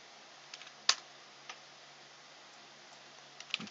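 Sparse, faint computer keyboard typing, a handful of light isolated key clicks spread over a quiet background hiss.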